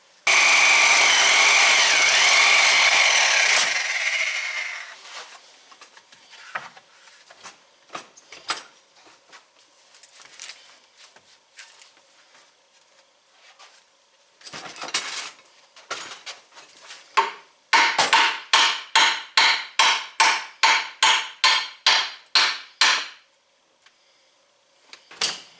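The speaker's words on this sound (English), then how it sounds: "we're going to get the Sawzall out and finish it off with the Sawzall" Power tools on a snowmobile part during an Arctic Cat F1100 teardown: a loud buzzing burst, scattered metal clanks, then a run of rapid rhythmic strokes from a Sawzall reciprocating saw cutting.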